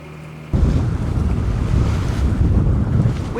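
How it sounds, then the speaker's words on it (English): Strong wind buffets the microphone aboard a cruising boat off Mexico's Pacific coast, with choppy, sloppy seas from wind opposing the swell washing and slapping loudly around the hull, rushing continuously after a sudden gust. "We have wind opposing swell, wind from this direction and the swell from the sea on the other side that are combining to make some sloppy seas."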